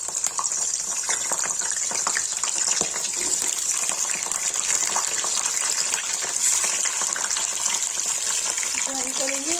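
Eggplant and potato with tomato fry in hot oil, a continuous loud sizzling hiss throughout, with a voice speaking over it.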